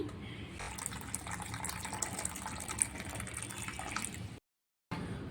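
Cooking water poured off boiled lentils in a steady, splashing gush for several seconds, briefly cutting out near the end before resuming.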